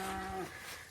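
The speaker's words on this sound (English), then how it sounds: "gonna enjoy the rest of it hanging out with the cows here" A cow on a green grass pasture gives a single short, loud moo close by that fades into open-air background.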